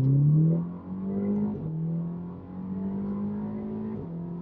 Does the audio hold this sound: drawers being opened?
no